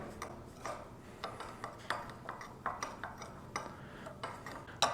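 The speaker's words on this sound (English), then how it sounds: "Okay, mix this up." Keto seed bread batter with baking powder and salt is mixed in a bowl, heard as quiet, rhythmic taps and scraping clicks of a utensil repeating steadily about twice a second, with no talking.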